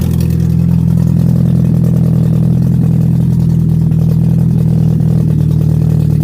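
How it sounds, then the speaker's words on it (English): A Skoda 120 engine runs with no exhaust fitted, giving a loud, raw, steady drone with a deep throbbing low end and no audible change in revs. "That's a bit noisy with no exhaust on it."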